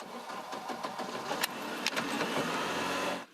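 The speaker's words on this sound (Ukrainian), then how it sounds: "Дерчання машини" A rattling vehicle brings feed to deer feeders in a forest in Cherkasy region, its engine running steadily and close with mechanical clatter throughout, then cutting off abruptly at the end.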